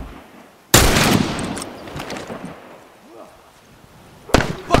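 Two rifle shots fired in the video game The Last of Us Remastered, each a sharp, loud broadband crack with a decaying tail, the first near the start and the second close to the end, separated by quieter ambience.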